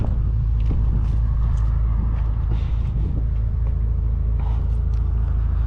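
Deep, steady engine rumble from a 2008 Bentley Continental GT on a drive, a continuous low drone with faint shifts in tone and no one talking.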